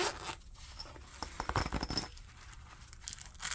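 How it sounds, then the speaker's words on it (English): Zipper on the pouch for a Boker Plus Little Friend knife, drawn in a quick burst of rasping pulls mid-clip, close and fairly quiet, with soft handling rustle before and after. "Got a nice zipper pouch."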